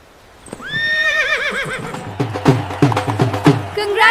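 A horse at a wedding procession gives a loud, rising and falling whinny, followed by a run of clip-clopping hoof steps close by.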